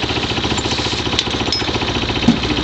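A cold go kart engine chugs at a fast steady rhythmic idle, loud and close, with a rough pulsing beat and no voices.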